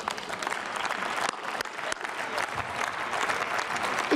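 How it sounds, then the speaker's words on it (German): Members of the German Bundestag applaud the plenary assistants in the chamber, sustained, even clapping filling the hall with a few sharper claps standing out. "Und ich glaube, die haben den meisten Applaus hier verdient."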